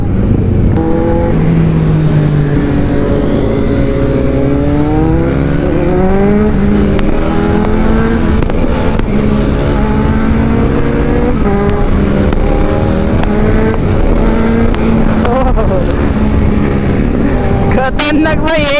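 Motorcycles revving on a group ride with a Kawasaki Z900 and smaller bikes of about 400 cc and 155 cc, loud engine tones rising and falling in pitch under constant wind rush, with a voice talking over them.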